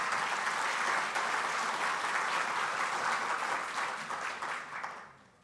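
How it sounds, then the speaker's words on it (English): Steady applause from an audience at an awards gala, filling the room evenly before tapering off and fading out near the end. "So please give them a round of applause."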